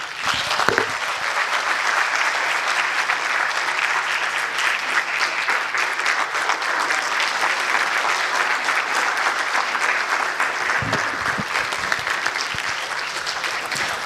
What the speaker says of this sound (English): Another resounding applause, please